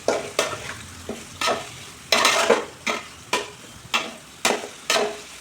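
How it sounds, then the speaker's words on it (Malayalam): Onions frying in oil with ginger garlic paste in a pan, a spoon stirring in regular scraping strokes over a soft sizzle, close up with no voices. "ആ സമയം കൊണ്ട് നമുക്ക് കുറച്ച് സവാള ആഡ് ചെയ്ത് കൊടുക്കാവേ. ഇനി സവാളയും ഒന്ന് മൂത്ത് വരണേ."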